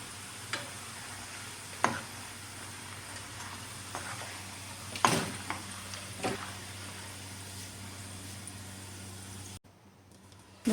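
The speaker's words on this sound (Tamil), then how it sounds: "சலசலப்பு அடங்குற வரை வேக வச்சு எடுத்துக்கணும்" Sweet sev dough fries in hot oil with a faint, steady sizzle broken by a few sharp pops and crackles, ending in a brief silence.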